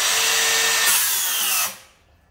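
A Dewalt Flexvolt 7-1/4 inch cordless circular saw cuts through wood, a loud high whine under load that shifts pitch partway through, then spins down and fades as the cut ends.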